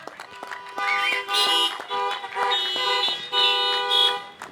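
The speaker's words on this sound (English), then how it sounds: "Let's give him a hand or give him a honk." Several car horns honk in overlapping bursts, long steady toots layered over one another, fairly loud and close.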